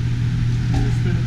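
A damaged car engine, its oil pan punched through, runs at a steady high idle or rev with a constant low drone, close and loud, while people talk over it.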